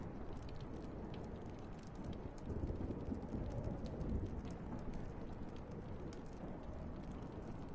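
Steady rain pours down during a thunderstorm in the Life is Strange game, a dense continuous hiss with a low rumble swelling midway, no talk.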